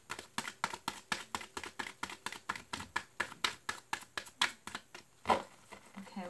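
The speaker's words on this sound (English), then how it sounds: "Okay, last shuffle." Tarot cards being shuffled by hand, a rapid regular run of crisp riffling snaps, close and clear, ending with one louder slap of the deck.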